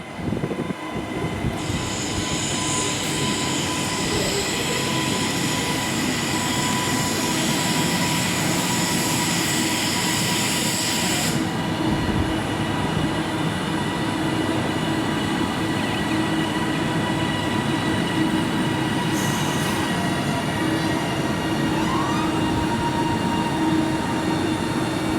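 A train pulls into a platform at Bolton station, with a steady rolling rumble and rising squealing, hissing tones that sustain, cut off, then briefly return, all heard alone and fairly near.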